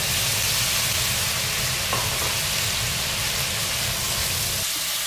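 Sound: stir-frying bamboo shoot tips with scallions in oil

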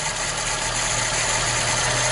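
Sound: car engine idling

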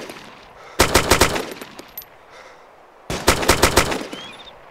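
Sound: gunfire at another player in video game DayZ

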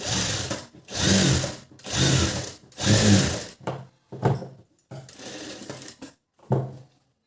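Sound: sewing machine stitching a blouse

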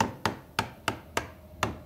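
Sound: hammering nails into boards in a video game

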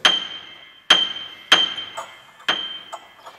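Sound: screw being inserted between piano strings for prepared piano

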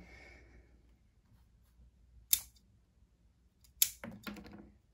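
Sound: scissors cutting leaves while pruning a jade plant

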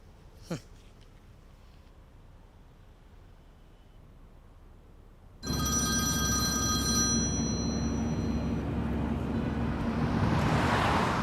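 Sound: mobile phone ringing

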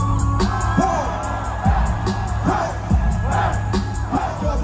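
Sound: concert crowd shouting at back of hall

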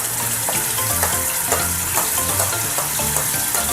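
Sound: ginger garlic paste sizzling in hot oil

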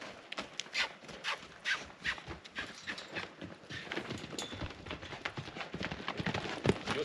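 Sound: horse hooves loping

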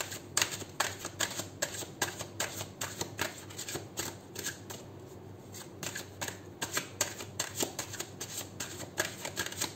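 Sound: drawing tarot cards from a deck

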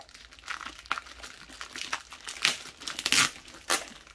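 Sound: opening the packaging of a diamond painting canvas

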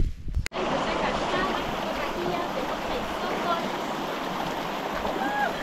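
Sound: clear river water flowing

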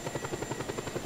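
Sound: helicopter in the video game Just Cause 2

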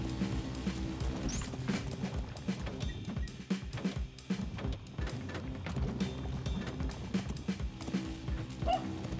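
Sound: Rock Dog creature sounds in Spelunky 2 video game

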